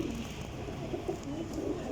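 Low, muffled pigeon cooing rises and falls steadily against a dense background hum, continuous for the whole short stretch.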